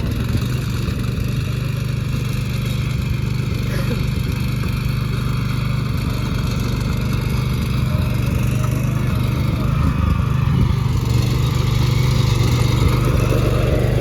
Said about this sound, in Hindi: भाई लग गया अपना रोटावेटर चलाना।